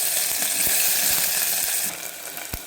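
Sliced onion, cut crosswise, sizzles steadily in a spoonful of hot oil, with a bright continuous hiss and a few faint stirring knocks.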